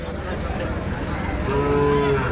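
A native-breed cow moos in a long, drawn-out low call over steady outdoor background noise, fairly close and loud.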